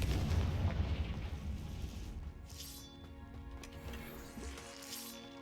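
A fiery blast spell goes off in the fantasy game Hogwarts Legacy, a heavy booming explosion at the start that rumbles and fades into ringing, shimmering magical tones and faint mechanical clatter.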